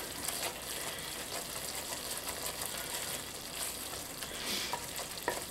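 Onions and garlic sizzling in a pan for pork posole stew, a steady bright crackling fry with a few sharper pops and scrapes, close and fairly quiet, with no voices.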